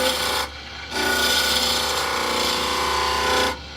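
Wood turning on a lathe, a tool cutting a half bead into spinning wood, giving a steady close scraping hiss that breaks off briefly, resumes for a few seconds, then stops.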